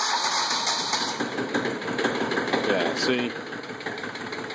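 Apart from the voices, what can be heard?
Chevrolet CK20 diesel truck engine running after cold start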